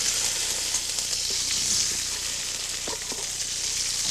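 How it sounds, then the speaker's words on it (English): Vegetables sautéing in hot garlic oil in a pan, giving a steady loud sizzle with occasional stirring scrapes, no voices. "put in a handful of vegetables now out of our draining pot and saute them in the garlic oil"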